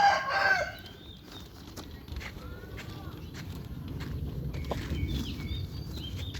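A young rooster crows loudly and close at the very start, followed by quieter clucks, rustling and scattered movement noises in an outdoor setting.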